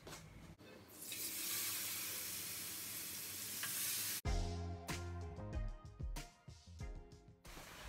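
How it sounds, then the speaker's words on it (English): Fish fillet goes into just-hot oil in a pan, first as a broad hissing sizzle that swells and holds, then breaking into sharp crackles, clinks and scraping handling noises toward the end, close by and with no talking. "So the oil is now hot, okay, just a bit hot, so I can now put the fish."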